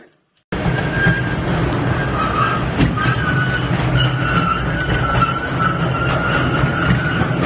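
A small mine train rolls through a salt mine museum, its wheels and carriages producing a loud, steady rumbling clatter with faint squeals, starting abruptly and continuing without pause.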